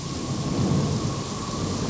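A thunderstorm at sea with rain, a short, loud, low rumble of thunder swelling over a steady wash of rainfall.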